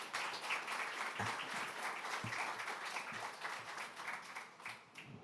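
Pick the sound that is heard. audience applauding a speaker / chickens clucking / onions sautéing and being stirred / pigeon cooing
audience applauding a speaker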